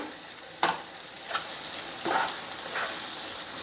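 Chicken sukka sizzles in a pan over a soft, steady frying hiss, broken by four separate scraping bursts as a spoon stirs it.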